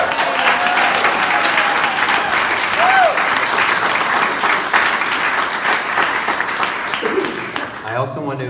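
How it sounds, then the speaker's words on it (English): A crowd at William Way Community Center in Philadelphia applauds Lis Smith, loud dense clapping sustained for several seconds, with voices and cheers mixed in before it thins out at the end. "And so another round of applause for her."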